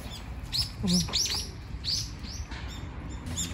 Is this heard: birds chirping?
yes